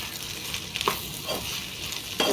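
Potatoes fry in a pan with coriander and other spice powders, giving a steady close sizzle broken by a few soft stirring scrapes; no voices.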